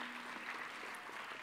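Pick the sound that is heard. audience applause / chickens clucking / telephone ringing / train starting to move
audience applause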